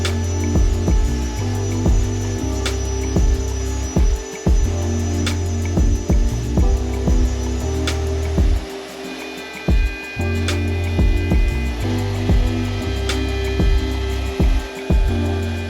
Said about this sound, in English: Since the plywood is 18mm fake, I need to cut it in 2 passes to make sure I not overload the machine.